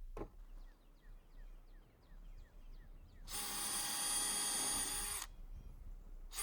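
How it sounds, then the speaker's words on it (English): A power drill drives screws into deck boards to fasten them to the joists, one steady high whine lasting about two seconds, preceded by faint clicks and followed by quieter handling sounds. "I just drive the screws in to secure the decking boards to the joist."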